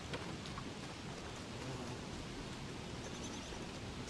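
Thunder rumbles from a lightning strike in the survival game Don't Starve Together, heard alone as a steady, low roar with rain-like hiss throughout the clip.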